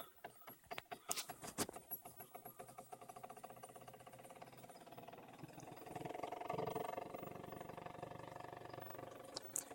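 Homemade CNC machine built from scavenged parts running a calibration test of circles and squares, with faint clicking, stepping and whirring motor sounds that rise into a steadier buzzing drone partway through.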